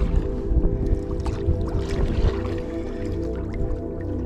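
Paddling a Rebel Yara LV sea kayak on the Baltic Sea off Fehmarn, with steady water splashes and sloshing close by, continuous and moderately loud throughout.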